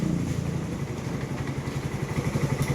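A newly delivered motorcycle idles quietly with a low, even putter and a faint mechanical clatter, close by and steady with nothing over it.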